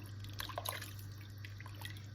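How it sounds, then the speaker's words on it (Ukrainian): Water pours into a pot of solyanka soup on the stove, a soft splashing trickle with a few brief drips, heard close over a steady low hum. "Тепер доливаю води."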